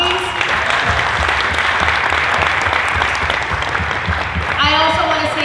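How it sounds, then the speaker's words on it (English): An audience at a middle school college fair gives a loud, sustained round of applause, a thick continuous clatter of many hands, with a few voices and cheers rising near the end. "can we give them a round of applause, please?"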